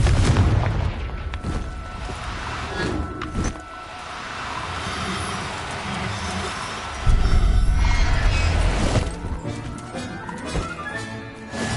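A Confringo spell explosion in Hogwarts Legacy bursts with loud booms and rumbling blasts, layered with mechanical clanks and game effects that rise again toward the end.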